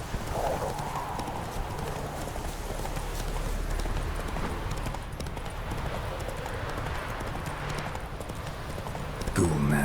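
Horse hooves clip-clopping at a steady gallop in The Witcher 3, a continuous rhythmic beat over game ambience with a brief whinny-like sound, no talking.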